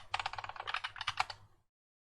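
Rapid typing of a short command on a computer keyboard while drafting in AutoCAD: a quick burst of close, crisp key clicks lasting about a second and a half, then silence.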